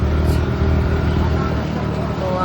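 A scooter engine hums steadily as it is ridden out toward the countryside near Mumbai, a continuous close, loud rumble with wind noise and no clear speech.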